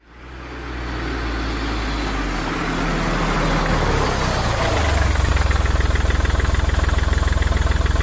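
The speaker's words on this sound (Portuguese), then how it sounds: "Primeiro, ouvíamos o carro a chegar ao pátio." A car pulls into a courtyard with its engine running, the low rumble building quickly and then settling into a steady, throbbing idle close by.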